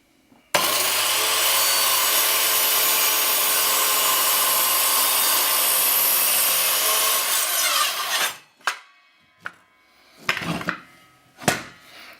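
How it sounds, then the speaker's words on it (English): An Evolution Fury circular saw rips through a small 2x2 wood piece on a 45-degree bevel, a loud continuous whining cut lasting about eight seconds, then several short bursts and knocks as it winds down. "I'm going to try a 45-degree bevel cut through this little piece of 2x2."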